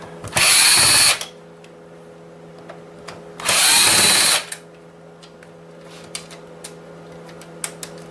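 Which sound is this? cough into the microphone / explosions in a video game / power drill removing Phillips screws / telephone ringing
power drill removing Phillips screws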